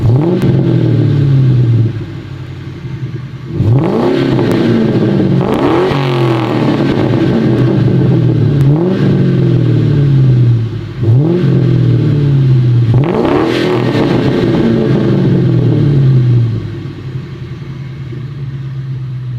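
A Ford Mustang with Magna Pack mufflers revving hard above 3,000 rpm, four loud rising blips each falling back to a burbling idle, close by and alone.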